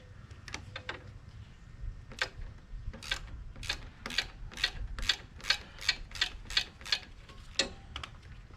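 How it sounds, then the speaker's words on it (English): Ratchet wrench loosening a bolt on a John Deere 212 garden tractor: a string of sharp, evenly spaced metallic clicks, fairly close, repeating about every half second over a low background rumble. "Grab our friend the ratchet here."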